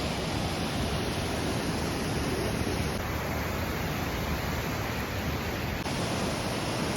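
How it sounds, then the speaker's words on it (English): An upper waterfall along a Canadian hiking trail roars in a constant broadband rush, loud and close, with no breaks or other sounds over it. "And for sure a way bigger waterfall."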